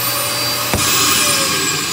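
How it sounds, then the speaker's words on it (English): A loud, steady suction roar of a built-in vacuum sweep inlet running close by in a Jayco North Point 382FLRB camper, with a brief click partway through. "So down here by the steps is basically the vacuum system"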